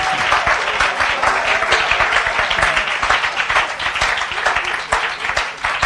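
A church congregation bursts into sustained applause during a service, a dense, loud wash of many hands clapping that holds steady for several seconds with faint voices mixed in.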